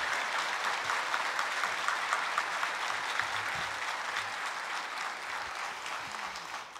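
A church congregation at a 50th-anniversary thanksgiving service applauds to welcome the pastor, with dense, sustained clapping from many hands filling the room steadily and evenly throughout.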